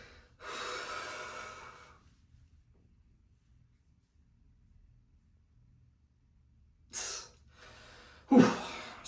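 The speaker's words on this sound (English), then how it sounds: "Exhale all the air." A person forcefully exhales and breathes hard while holding a bodybuilding back pose; a long airy breath at the start, then two sharp gasping snorts near the end, close to the microphone with silence between.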